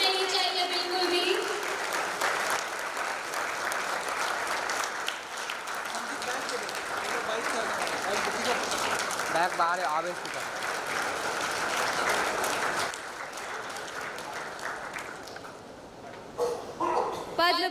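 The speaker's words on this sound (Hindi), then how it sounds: "जोरदार तालियों की गड़गड़ाहट रुकनी नहीं चाहिए बिल्कुल भी" Loud, sustained applause fills the hall at the Champions of Change Maharashtra award ceremony, rolling on without a break for well over fifteen seconds, with an announcer's voice heard briefly near the end.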